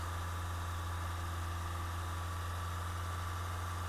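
Lifan KPX 250 motorcycle engine held at a steady 2500 RPM, a continuous, even mechanical drone with a low throbbing pulse and a constant hum, running alone with no voices.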